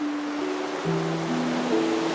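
Ocean waves in Honkai: Star Rail wash in a soft, steady surf hiss beneath sustained musical tones, with a slight swell partway through and no talking.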